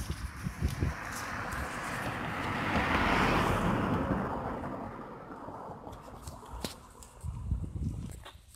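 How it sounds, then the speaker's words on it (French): A car approaching from a distance in the woods, its engine and tire noise swelling to a peak and then fading, with some shuffling nearby. "Il y a une voiture qui arrive."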